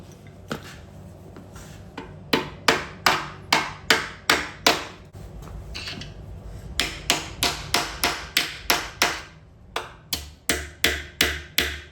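A hammer repeatedly strikes a bent bolt from a pole transformer lid, sharp ringing metal blows falling in quick steady bursts of five to seven hits separated by short pauses, close and loud with no talking.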